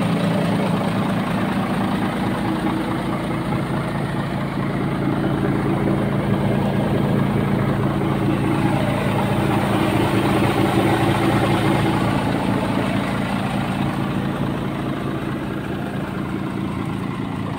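A MAN TGA 18.412 tractor unit's diesel engine idles with a steady, deep, even rumble, close and unbroken throughout without any voices.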